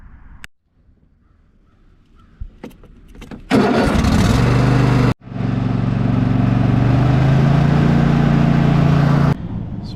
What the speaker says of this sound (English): you want to run the motor for about a minute or two